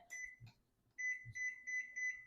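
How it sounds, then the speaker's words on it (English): A kitchen timer beeps softly at close range: a few button chirps as it is set for 30 minutes, then a steady series of short, even, high beeps. "Set a timer for 30 minutes before I forget."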